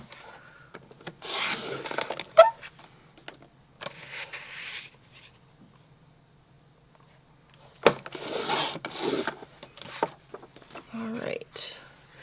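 Paper trimmer slicing scrapbook paper into 4.5-inch squares for a Creative Memories travel album, heard as a few bursts of close rasping, sliding strokes separated by quiet pauses, with soft handling noise between cuts.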